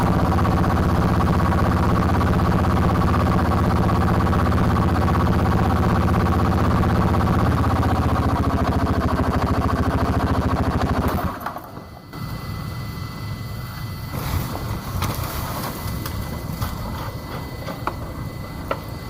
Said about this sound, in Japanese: エンジン音がうるさいので編集で音量下げてます。